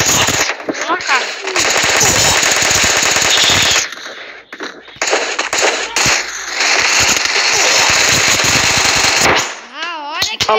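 Rapid bursts of automatic gunfire in the Free Fire video game, loud and dense with short pauses between volleys, while a player speaks near the end.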